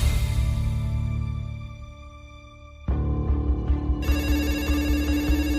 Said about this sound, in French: découverte des corps de Nathan et Vinciane, le téléphone sonne au commissariat